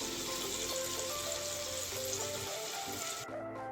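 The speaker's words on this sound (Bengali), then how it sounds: "এবার মেল্ট করা দুধটা একটু ঢেলে দিলাম" Melted milk poured into a frying pan of paneer and gravy, a steady hissing sizzle and liquid rush that runs continuously, then cuts off near the end.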